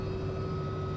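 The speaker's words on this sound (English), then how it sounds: "welcome back to another helicopter flight" Steady, loud drone of a medevac helicopter in flight, heard from inside the cabin as a continuous engine and rotor hum with a sustained tonal whine and no speech.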